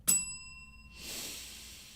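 A bell struck once up close, a bright ringing strike whose clear tones hang for nearly a second before fading, followed by a soft breathy rustle.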